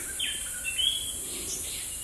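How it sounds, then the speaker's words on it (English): Birds call in the savannah on the slopes of Mount Cameroon, a few thin high chirps and whistles standing out briefly over a steady faint hiss of insects and open air. "The savannah was alive with the sound of birds calling"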